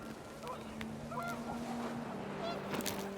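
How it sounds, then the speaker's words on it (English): Panicked geese in the video game What Remains of Edith Finch give several short honks over a steady windy background hum, with a faint voice mixed in. "panicked geese appeared and quickly went"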